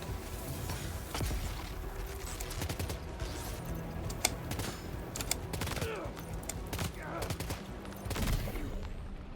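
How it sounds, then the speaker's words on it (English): Gunfire in the video game Death Stranding 2, with sharp shots and bursts scattered through a busy game soundscape, partly under speech. "There it is. 2 shots to the head."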